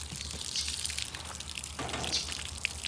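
Leftover soaking water poured out from a container, a steady splashing gush of liquid running close by with no talking.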